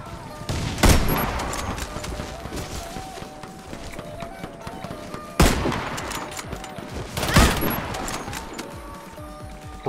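Gunfire in the Warface shooter game, free-for-all match with an M40A5 sniper rifle: three sharp, loud shots spaced a few seconds apart over a busy background of game noise and faint chatter.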